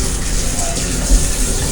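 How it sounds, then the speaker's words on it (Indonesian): Tap water runs steadily from a washbasin faucet in a train toilet on a morning service from Gambir to Bandung, a continuous close gush over the rumble of the moving carriage. "Air mengalir lancar saat digunakan untuk mencuci tangan."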